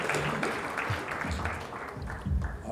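An audience applauds at the end of an evening talk on the existence of God, a dense, steady wash of clapping that holds for the whole stretch with a few louder swells.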